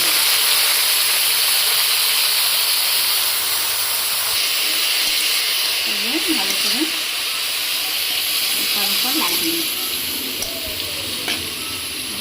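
Leafy greens and potato frying in a wok with chilli and garlic, a loud, continuous hiss and sizzle close up, with occasional scraping of a spatula stirring the pan.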